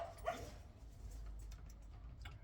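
Dogs barking near a house, a single sharp distant bark followed by faint yips over a low background hum, no talking.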